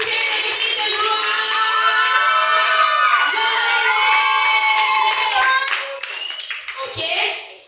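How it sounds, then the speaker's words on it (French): Children in a church congregation cheer and shout with joy while clapping, a loud sustained crowd of young voices that swells and then fades near the end. "Est-ce que vous pouvez pousser des cris de joie?"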